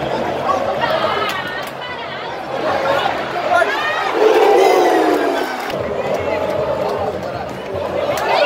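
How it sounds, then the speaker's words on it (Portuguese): Football stadium crowd at Corinthians vs São Paulo, a huge mass of fans shouting and chanting in waves, loud and sustained with rising roars and chatter all around. "Olha essa torcida gritando."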